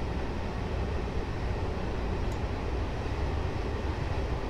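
A train runs in a train simulator game on the Berlin–Wittenberg route. It gives a steady, unbroken rumble and roar that holds at an even level throughout, with no voices.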